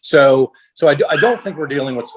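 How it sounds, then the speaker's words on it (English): Dogs barking and yipping in the background, a few short barks partly under a man's speech. "I apologize for the barking dogs."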